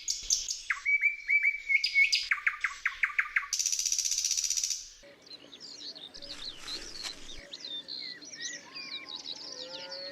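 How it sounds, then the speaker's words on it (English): A nightingale sings from wetland shrubs in loud, varied phrases of rapid trills, repeated notes and whistles, followed by softer chirping against a steady outdoor background. "the nightingale."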